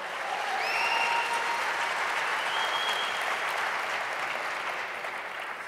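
A church congregation applauds steadily during a Sunday morning service, dense even clapping at close range that holds for several seconds and fades only slightly, with a few faint voices and whistle-like cries over it.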